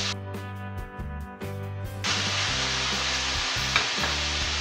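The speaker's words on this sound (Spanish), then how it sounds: "en una sartén con un poquito de aceite, ¿vale? Ya está calentita. Vamos a poner, en este caso, la carne." Meat hits hot oil in a frying pan for Chinese-style noodles, bursting into a loud, continuous close-up sizzle after a moment of quieter stirring and scraping.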